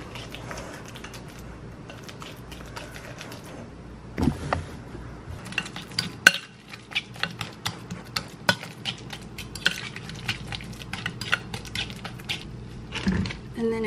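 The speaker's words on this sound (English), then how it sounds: "I'm gonna mash." Bananas being mashed in a bowl for banana bread, a soft clatter of a utensil scraping and tapping against the dish in irregular bursts, close up, with some quiet speech nearby.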